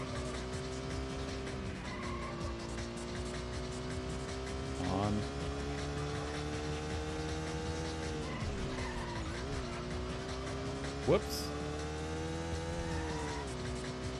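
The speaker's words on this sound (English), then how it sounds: "But what is this engine sound? This is supposed to be a V12." A Ferrari Testarossa with a V12 engine runs in a video game, a steady thin engine drone with short tire squeals and a sharp skid, while a voice briefly speaks.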